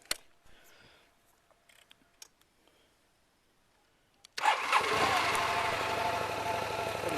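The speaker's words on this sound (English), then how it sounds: "I'll start the bike up from cold" A cold-start of an Aprilia Mana motorcycle: faint clicks and ignition noises, then the engine catches abruptly and settles into a loud, steady, broadband idle that continues to the end.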